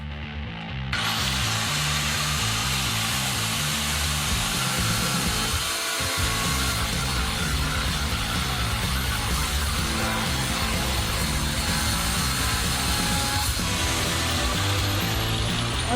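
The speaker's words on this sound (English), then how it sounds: "I suggest we grind this thing into half." An angle grinder cuts a bicycle bottom bracket in half, throwing sparks; after a brief start, a loud, continuous, harsh metal-grinding whine holds steady nearly throughout, with one short dip midway.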